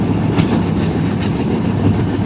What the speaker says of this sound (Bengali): এদিকে আমরা বাংলাদেশের ভিতর দিয়ে ট্রেনে করে যাচ্ছি